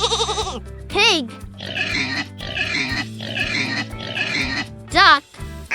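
Several snuffling pig oinks and grunts come in a close, loud series, set against light background music.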